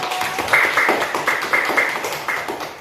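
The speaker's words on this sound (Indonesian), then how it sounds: "Tepuk tangan untuk kamu." A classroom of students claps for a classmate's correct answer in an Indonesian school lesson, giving a short burst of close, rhythmic hand claps with some voices mixed in.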